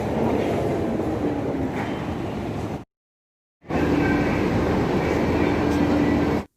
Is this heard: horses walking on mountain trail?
no